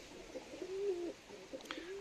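A pigeon coos softly nearby, a few low drawn-out coos with a short chirp-like sound near the end, faint and alone in a quiet setting.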